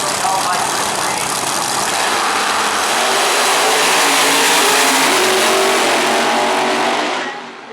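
A drag racing car makes a full-throttle run at Maryland International Raceway, a loud, sustained roaring engine that holds steady for several seconds before cutting off abruptly at the end.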